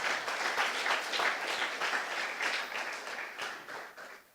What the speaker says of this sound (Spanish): Dele un fuerte aplauso al Rey.